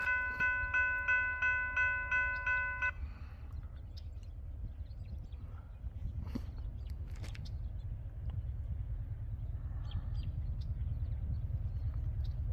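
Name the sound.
intermodal freight train passing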